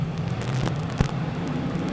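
Modified race cars roar into turns one and two at Merrittville Speedway as the green flag drops, a steady loud engine drone with one sharp thump partway through.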